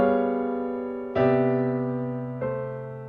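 Sustained piano chords move in smooth voice leading, three chords struck one after another, each ringing out and slowly decaying, close and clear with no talk.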